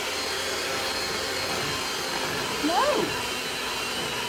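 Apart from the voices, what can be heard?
powerful electric mixer mixing cake batter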